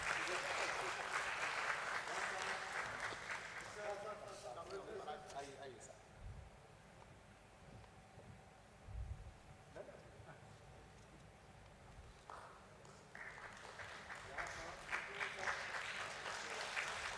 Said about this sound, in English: Let's welcome the three of them with a round of applause.